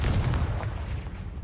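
A Confringo fire-blast spell bursting in Hogwarts Legacy, a single dense low rumbling blast that fades over a second and a half.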